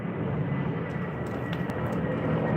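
A Delta Air Lines Boeing 787 Dreamliner airliner makes a steady, broad jet roar at moderate distance, holding even for the whole stretch.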